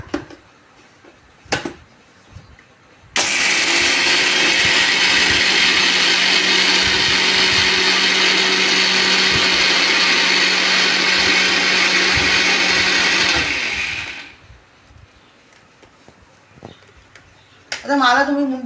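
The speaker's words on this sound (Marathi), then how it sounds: "पहिला धने फिरवून घेते मिक्सरमध्ये, पावडर करून घेते" Mixer grinder whirring at high speed as it grinds coriander seeds into powder, a loud, steady motor roar lasting about eleven seconds, then winding down, with brief clatter before and after.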